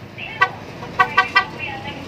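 A loud aftermarket NHAY3+ Pro horn on a Yamaha NMAX V2 scooter beeps several times in quick succession, sharp and near, over steady background noise.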